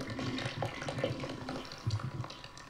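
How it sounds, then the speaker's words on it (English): A toilet flushes in the video game Resident Evil 7, a quiet, continuous gurgle and rush of running water lasting a few seconds with no voices over it. "Flush the toilet."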